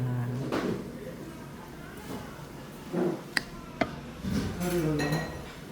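A spoon scrapes and clinks inside a stone pot while mixing bean sprout rice with soy sauce, giving intermittent scraping and a few sharp metallic taps under nearby talk.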